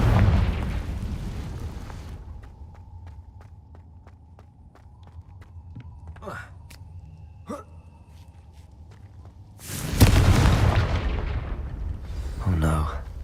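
A Confringo spell explosion in Hogwarts Legacy: a loud burst at the start, a quieter stretch of footsteps and ticks, then a second heavy blast near the end, with a voice nearby.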